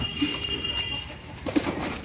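A Sirazi pigeon chick gives faint, soft bird sounds and brief rustles. A few short chirpy blips stand out against a quiet indoor hum.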